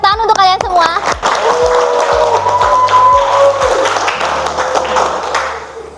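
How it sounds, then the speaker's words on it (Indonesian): A classroom of students claps together steadily for several seconds, dense and close, with a few voices mixed into the applause. "tepuk tangan untuk kalian semua"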